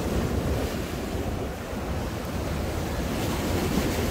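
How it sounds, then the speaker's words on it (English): Sea waves wash over the steps leading up to the Blackpool promenade at high tide, a loud continuous roar of surf with rushing water and wind buffeting the microphone. "you can see all the waves coming into the area of the steps that lead to the promenade"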